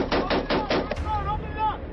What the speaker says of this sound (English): And there's machine gun rounds coming in.